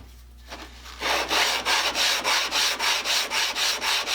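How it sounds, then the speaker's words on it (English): Sandpaper rubs by hand over the metal of a rebate plane being fettled: after a brief pause, quick, even back-and-forth scraping strokes, about three per second, continue close and steady. "I'm going to just take some hand sandpaper and sand that down a little bit."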